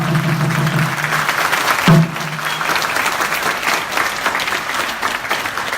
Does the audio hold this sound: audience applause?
yes